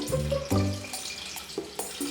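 Water poured into a pot holding sugar and corn syrup for candy-apple coating, a splashing, gurgling pour with a few brief bursts and trickles, close and fairly loud, with no talking.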